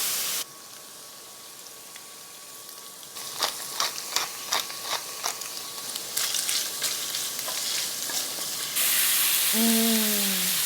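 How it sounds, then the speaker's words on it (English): Shrimp seasoned with salt and pepper sizzle and fry loudly in a hot pan, with a burst of crackling spatter and scattered stirring clicks, the sizzle swelling steadily and continuing without talk. "First, before we make our sauce, we need to saute our shrimp."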